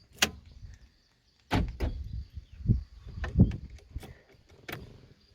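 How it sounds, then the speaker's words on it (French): A Renault Twingo 1 unlocks with a key remote during immobilizer key syncing: a sharp clunk of the door locks, a pause, then a run of close mechanical thuds and clicks in uneven bursts. "Donc on va essayer de déverrouiller avec cette clé."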